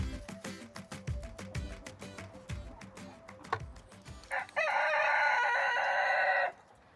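A silkie rooster on a cold farm morning lets out one long, loud crow near the end, after a stretch of soft rustling and thumping nearby.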